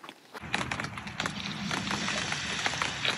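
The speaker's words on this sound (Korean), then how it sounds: "여러분 생각보다 비가 꽤 많이 와요." Fairly heavy rain drums on a camping tent pitched on open ground, a dense, close, continuous patter of drops that begins abruptly and holds steady to the end.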